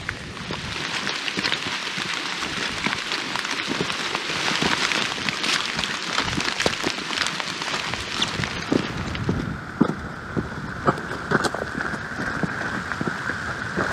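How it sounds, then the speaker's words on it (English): Steady rain patters on surfaces around a hiker on a backpacking trail near Echo Lake, a dense continuous shower with scattered close drops and footfalls, no talk. "It's not the end of the rain yet though."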